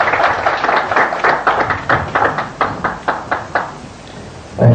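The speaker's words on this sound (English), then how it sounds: "Please give him a better round of applause." A round of applause from a crowd, many hands clapping in a steady rhythmic burst that fades out near the end.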